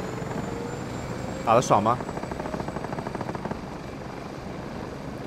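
A steady aircraft engine drone from the battle-royale game Game For Peace hums through the scene at moderate level, while a player's voice briefly speaks over it and faint in-game clatter sits underneath.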